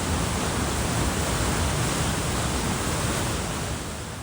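Whitewater rapids on the South Fork Salmon River in Idaho wilderness rush in a dense, continuous hiss and roar, loud and steady, easing slightly toward the end.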